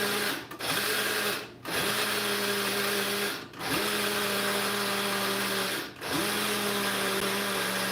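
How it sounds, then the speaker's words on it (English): A blender whirs loudly through coffee in several bursts of about two seconds each, with brief pauses between them. No one speaks. "I'm gonna blend it a few more times because the last time I made it, there were still some chunky bits of coffee."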